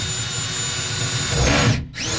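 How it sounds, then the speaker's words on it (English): A power drill bores a hole through the hull of a Ro Skiff drift boat, its steady whine running close and loud, swelling as the bit cuts, then cutting out briefly before spinning up again. "Drilling a hole."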